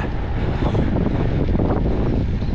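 Heavy wind buffeting a microphone while cycling gravel roads from Fréhel to Dinan in Brittany into a headwind, a continuous loud low roar with no talking.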